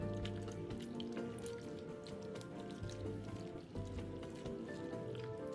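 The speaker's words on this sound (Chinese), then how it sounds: "取出腌渍了5分钟后的苦瓜，用清水清洗至少2遍" Salted bitter melon is rinsed by hand in a bowl of clean water, giving a close, continuous sloshing and dripping with soft splashes and clinks.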